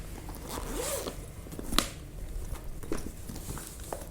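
A zipper on a bangle bag is pulled open in a few quick rasping strokes, close and clear, with one sharper tug near the middle.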